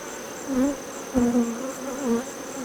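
Honeybees buzzing close by around a hive, their drone rising and falling as individual insects pass near, over a steady high background hum.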